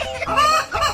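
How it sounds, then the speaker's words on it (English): Cartoon chicken clucking loudly and close, a quick run of squawky clucks filling the moment with a short pause before a final burst. "Chicken."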